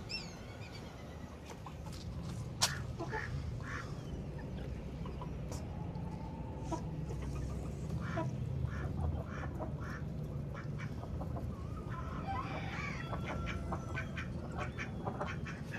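Mallard ducks on a rooftop give repeated nasal quacks and chatter at middle distance. The calls are scattered and irregular over a soft, steady background.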